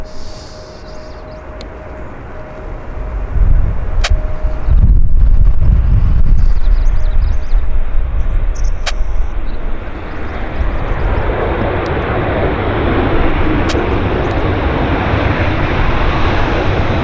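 A WestJet airliner landing at Vancouver airport: a loud, sustained engine roar swells after a few seconds and stays broad and rumbling, easing into steady distant jet noise as the plane rolls out.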